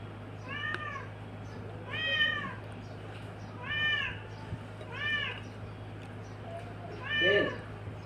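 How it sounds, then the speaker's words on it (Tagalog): A pet cat meows five times in separate drawn-out calls, fairly close, over a steady low hum, with no one speaking. "Kawawa naman ang pusa."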